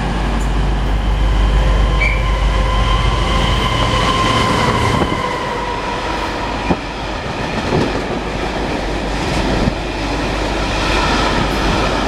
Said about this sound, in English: Looks like another works train.